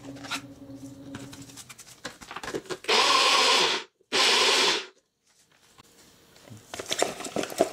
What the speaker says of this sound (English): You don't want to grind this down really fine because we're going to need to ferment this, so little chunks is okay.